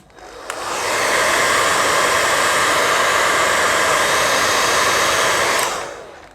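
A second hair dryer, the one used for styling, starts and runs as a loud, even whoosh of air for about five seconds before cutting off, with no one talking.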